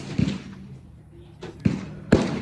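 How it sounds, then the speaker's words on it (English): At an outdoor shooting range where a Remington 700 rifle in 7mm Magnum is fired, three sharp, booming reports ring out within about two seconds, with a faint thump between them. "I'm shooting the Remington 7 mag"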